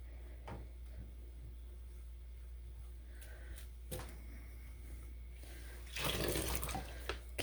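Water splashes and trickles as dyed camel and silk fiber is rinsed, a low steady running under faint knocks, then a louder burst of splashing near the end.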